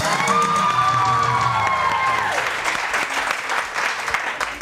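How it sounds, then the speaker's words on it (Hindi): A studio audience on a morning TV show bursts into loud applause and some cheering to welcome a guest, with a brief rising musical tone at the start fading under the crowd. "तो सबसे पहले तो हम जोरदार तालियों में वेलकम करेंगे हुमायूं महबूब को"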